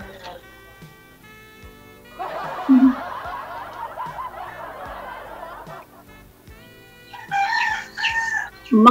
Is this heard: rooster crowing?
yes